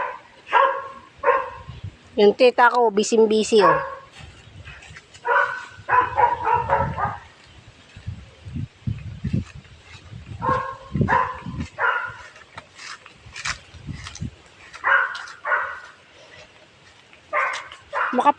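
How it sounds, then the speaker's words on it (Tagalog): A large pack of dogs on a mountain path barks repeatedly, several animals yapping in uneven bursts near and farther off, mixed with whimpers and occasional talk among walkers. "Napakadaming aso."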